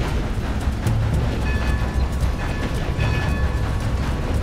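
A train in the game Red Dead Redemption 2 rolls along with a continuous loud rumble and rhythmic clickety-clack of wheels on the rails, a faint whistle-like tone riding over the steady mechanical noise.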